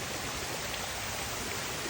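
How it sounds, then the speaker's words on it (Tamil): Broadband, steady rushing of a waterfall pouring down a hillside beside a slippery trekking path near Tiruvannamalai, a continuous dense roar with no breaks or voices. "இந்த மலையிலேருந்து அழகாக தண்ணி கொட்டுற மாதிரி அருவி கொட்டிகிட்ருக்கு"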